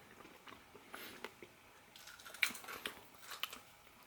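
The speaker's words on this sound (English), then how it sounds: "Crunchy pickles with breading." Close-up crunchy bites and chewing of breaded pickles, a series of sharp crackling crunches at an irregular pace with soft chewing between them.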